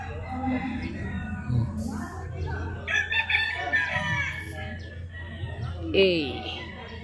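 Chickens and roosters at a game farm in Tanauan, Batangas, under mango trees, with crowing and clucking spread through the clip beneath someone talking steadily nearby.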